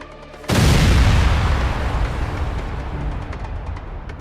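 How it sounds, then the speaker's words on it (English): An explosive charge detonates at a Russian position with a sudden, loud, close boom that follows a short quiet stretch, then a long rumbling, crackling roll that slowly fades. "After placing the explosive, they withdraw as quickly as possible, and shortly afterward it detonates"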